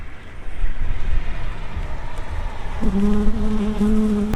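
A steady low buzzing of many honey bees at an open hive during an inspection fills the clip, close by, with a stronger droning tone swelling in near the end.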